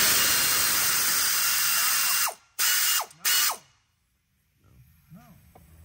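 A ratchet socket wrench works on exhaust bolts during a 2008-2012 Honda Accord 2.4L catalytic converter replacement. There is a long, loud, fast run of ratcheting clicks, then two short bursts, then near quiet with faint clicks.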